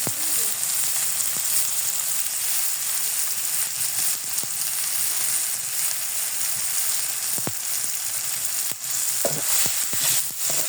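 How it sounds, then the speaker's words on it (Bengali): Spices stirred and fried in a pan for chicken noodles, a continuous close sizzle with a few soft scrapes and clicks from the stirring spoon, no talking. "মশলাটা ভালোভাবে করে নেড়ে চেড়ে দিয়ে"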